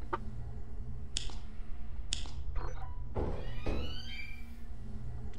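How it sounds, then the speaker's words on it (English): Scattered creaks and thumps from a door opening in the horror game Lethal Company, faint and distant against a dark ambient hum, with a few sharper knocks in between. "I just heard a fucking door open."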